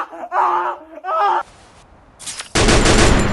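Gunfire in a battle royale video game, with a dense, loud burst of shots erupting near the end after short bursts of other game sounds and quieter gaps.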